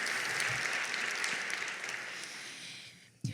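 Applause from an audience, a steady wash of clapping that gradually thins out and fades near the end.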